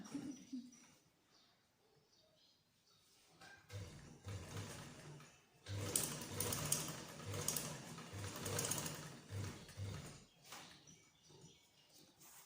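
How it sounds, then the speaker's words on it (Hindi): A sewing machine stitches applique cutwork through cloth laid over buckram for a shalwar hem. Soft mechanical handling comes first, then a rapid, rhythmic run of stitching that starts and pauses in short bursts, fairly quiet and without speech. "हमें सिलाई बुकरम के ऊपर नहीं लगानी, हमें ये सिलाई कपड़े पर लगानी है"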